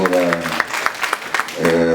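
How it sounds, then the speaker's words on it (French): Applause from an audience at a training ceremony for 30 young agricultural entrepreneurs in Senegal; a burst of clapping rises between stretches of a speaking voice. "je vous demande de l'applaudir encore très très fort."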